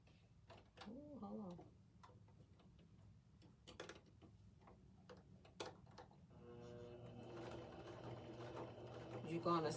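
A sewing machine stitches fabric in quiet bursts of mechanical ticking, then settles into a steadier whirring run toward the end, while a person talks nearby.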